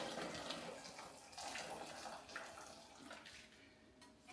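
Hot water pours steadily into a rice cooker in a home kitchen while spaghetti is being prepared, a continuous splashing rush with no voices.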